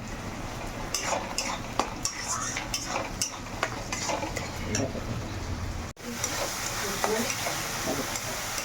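Spice masala being stir-fried in a pan while salt goes in, a steady close sizzle with scraping and clinks of a utensil against the pan, one brief break near the end before the frying resumes.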